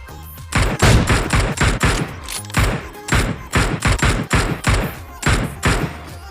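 Rapid bursts of video game gunfire from an MK and Groza weapon combo, loud and close, with repeated volleys and short pauses between them.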